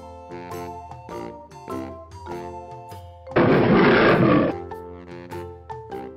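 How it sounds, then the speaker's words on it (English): A single deep lion roar bursts in for about a second, loud and rough, cutting through light plinking music that continues around it. "lion"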